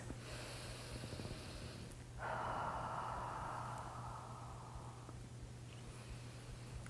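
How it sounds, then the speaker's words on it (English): One deep breath is drawn during a stress-relief yoga session, a soft airy rush of about three seconds over a steady low hum in a quiet room. "We're going to breathe deeply here for just a couple deep breaths."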